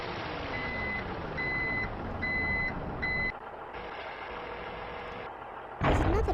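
A truck in a children's construction video game sounds a series of evenly spaced reversing beeps over a steady engine drone, then the engine tone shifts and a short burst of noise follows.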